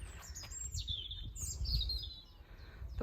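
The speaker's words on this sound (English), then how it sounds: "The birds are fantastic. There are swallows nesting in the porch of the church." Swallows nesting in the porch of a country church chirp and twitter in quick, bright calls, fairly close and continuous over a low outdoor rumble.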